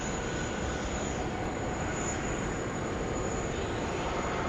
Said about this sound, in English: The Jetstar A320 about to roll now, 16 right.